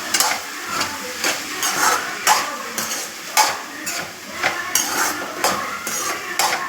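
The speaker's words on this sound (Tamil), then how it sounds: "நம்ம நல்லா திறந்துட்டு நல்லா கிண்டி விடுவோம்." Okra poriyal stirred in a pan, a spoon scraping and clinking against the metal in a steady rhythm of repeated strokes, close and fairly loud, with faint sizzling between the strokes.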